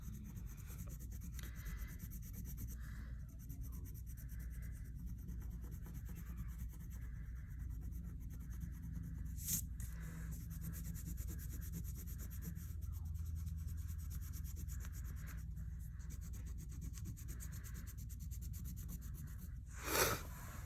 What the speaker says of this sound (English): I'm going to make the inside lighter with my crayon.